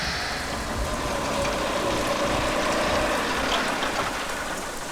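Steady rain hisses down in a dense, even wash, with scattered drops spattering on surfaces close by.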